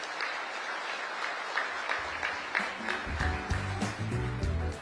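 An audience at a peace prize ceremony breaks into applause, clapping building from sparse to fuller over a few seconds, with faint musical tones entering underneath toward the end.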